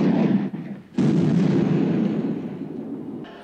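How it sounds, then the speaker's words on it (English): Gunshot in the 1974 film Blazing Saddles, a loud, booming report that rings out, followed by a second sharp blast with a long echoing tail, no talk over it. "Dang, that's a pretty far shot."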